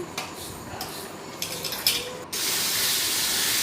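Mutton hits hot oil in a wok after a few light utensil clinks, bursting into a loud, steady, close sizzle that holds to the end.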